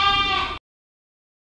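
A goat at a rural Bangladeshi home gives a single short, close, clear bleat lasting about half a second, followed by silence.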